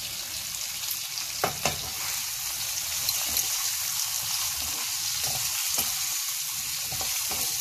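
Pumpkin pieces mixed with salt cook in a pan for mashed pumpkin bharta, giving a steady, even sizzle close by, with a few sharp clicks and stirring sounds, and no talking.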